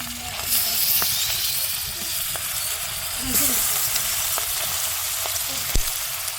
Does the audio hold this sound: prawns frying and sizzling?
yes